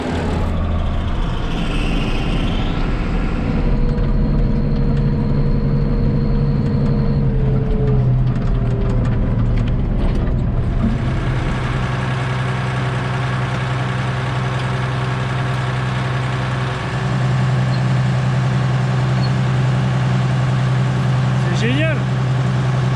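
A tractor engine rumbles loudly and steadily throughout as it hauls big bags of barley seed for direct drilling, its drone shifting in pitch midway.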